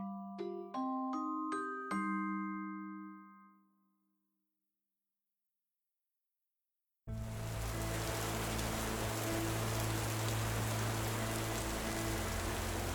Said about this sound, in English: It was autumn in Ravnica, and so it rained.